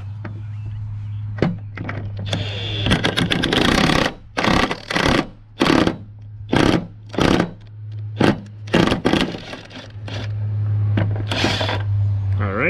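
A nut is run down a John Deere mower deck spindle to press it on, giving a series of sharp clanks and ratchet-like clicks in irregular bursts over a steady low hum, close up.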